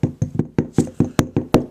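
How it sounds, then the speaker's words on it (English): A small wooden drawer knob taps lightly and repeatedly on the inside bottom of a clay pot resting on a solid surface, about nine sharp, evenly spaced knocks in under two seconds, close and clear. "just take your little drawer knob, put this on a solid surface, and go inside and just tap lightly"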